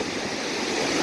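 Sea waves at a beach wash in a steady, full hiss of surf, continuous and fairly loud, with no talking.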